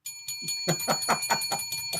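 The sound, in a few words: bell rung on a show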